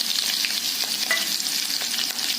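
Mustard seeds and cumin crackle and sizzle in hot oil in a pan, a continuous bright frying hiss with small pops scattered through, close and steady with no talking.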